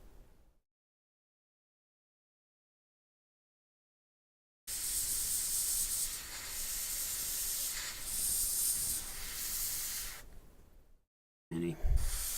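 An airbrush spraying paint onto a miniature's claw gives a steady close hiss lasting several seconds, surging slightly, then stopping, after a long silent gap and followed by a brief burst.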